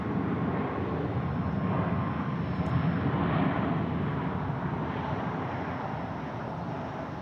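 Airplane taking off at Phoenix Sky Harbor Airport, a steady, loud broadband jet roar that holds throughout with no break, heard from a distance without any voices.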